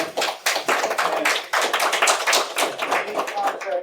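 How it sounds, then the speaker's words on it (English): A small group claps steadily for a few seconds, close by, with overlapping hand claps and some voices mixed in. "Give them a round of applause for coming"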